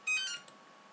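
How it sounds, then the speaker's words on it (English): A phone rings in a dark room during Minecraft play: one short electronic ring burst, then a brief faint blip, heard alone without talk. "Right, someone better answer that phone now."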